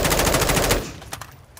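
Rapid automatic fire from an SMG in Warzone II, a dense, loud burst of evenly spaced shots that stops abruptly, followed by a few faint clicks and rattles.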